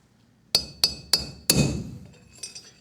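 Four sharp metallic hammer strikes on a bearing race, tapped around its edge during a UFP DB-42 trailer hub bearing job, each blow ringing briefly. Lighter clinks follow, all close and alone without talk.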